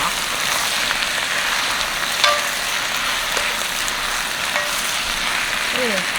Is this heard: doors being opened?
no